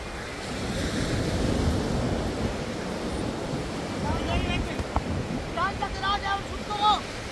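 Steady rushing surf washes over a broad stretch of beach at Saint Martin's Island, Bangladesh, with wind buffeting the microphone and faint distant voices and whistle-like tones near the end.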